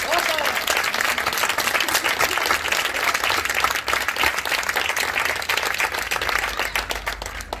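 Crowd applause at a town festa major proclamation of the hereu and pubilla in Catalonia, dense lively clapping with sharp individual claps standing out, continuous throughout, with voices mixed in underneath.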